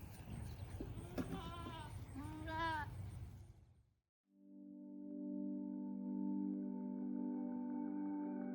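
Baby goats bleat at a goat dairy farm in southern Vermont, several wavering cries close by over a low hum, then a sharp cut to a long steady tonal drone.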